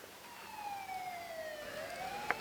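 A police siren wails at a distance, its tone gliding slowly downward and then back up, faint and alone over a low outdoor background hum.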